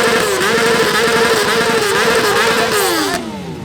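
Two motorcycles rev their exhausts at the same time at an outdoor exhaust competition, a loud, sustained buzzing roar with wavering pitch that drops off near the end.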